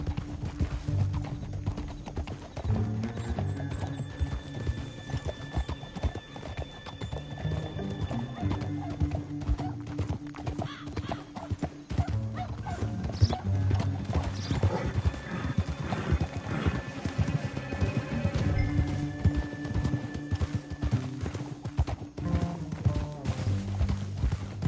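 Horse hooves clip-clop steadily across rough terrain in Red Dead Redemption 2, with occasional whinnies and a soft musical score playing beneath the continuous rhythmic trotting.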